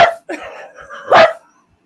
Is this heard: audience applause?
no